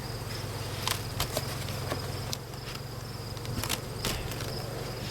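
Honeybees from a weighed hive hum steadily during a fall colony check, a continuous close drone with a low buzzing band and occasional louder passes of single bees near the ear.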